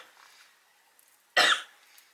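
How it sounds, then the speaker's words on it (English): A single sharp, close cough bursts out after a near-silent pause, caused by swallowed cat hair, then quickly fades. "Oh, I'm gonna cough, excuse me ahead of time."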